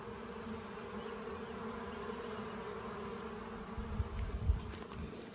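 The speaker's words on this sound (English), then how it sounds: "all the bees that are coming back are already checking out this new location" Honeybees hum around a small nuc colony moved from a split into a ten-frame deep box, their buzzing a faint, steady drone with a few closer passes of individual bees near the end.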